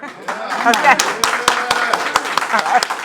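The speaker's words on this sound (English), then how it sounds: "All we can do is clap to that." A small studio group claps along in a talk show, sharp distinct hand claps in an uneven rhythm close to the microphone, mixed with voices talking and exclaiming over them.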